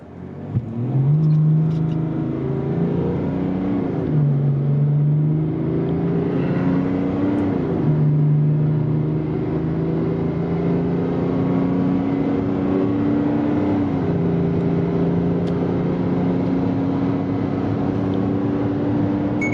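A 2021 Ford F-150 and Chevy Silverado pickup truck in four-wheel drive accelerate hard in a drag race, a loud sustained engine roar climbing in pitch through repeated gear shifts for about twenty seconds, with no talking.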